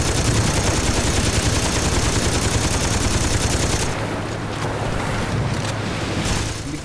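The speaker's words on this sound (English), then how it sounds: "machine gun" Machine gun fire in the video game Saints Row 2, a loud continuous rattling stream of rapid shots that thins out partway through, then carries on more sparsely over a steady background hum.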